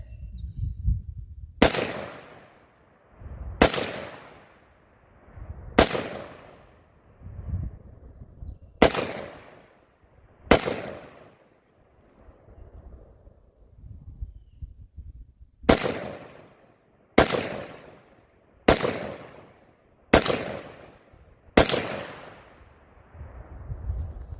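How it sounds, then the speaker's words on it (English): Loud, sharp gunshots fired at a shooting range, about eleven single reports spaced a second or two apart with a pause midway, each cracking close and ringing off briefly, with no talk over them. "I do have a gun that works though, and it's this one. So we're gonna shoot it."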